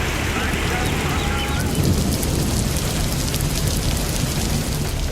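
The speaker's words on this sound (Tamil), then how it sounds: "பெரம்பலூர் மாவட்டத்தில் குன்னம், கொடக்காநத்தம், மருவத்தூர், சிறுகன்பூர் உள்ளிட்ட பகுதிகளில் கனமழை பெய்தது." Heavy rain pours steadily in the Perambalur district, a dense, continuous roar of rainfall filling the scene, loud and unbroken with a faint rumble underneath.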